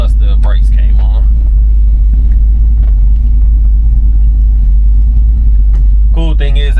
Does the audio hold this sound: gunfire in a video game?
no